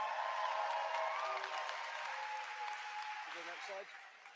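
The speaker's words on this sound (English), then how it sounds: "ladies and gentlemen, big round of applause" A convention closing ceremony crowd applauds the new vice chair, a broad wash of clapping that fades gradually, with a voice speaking faintly toward the end.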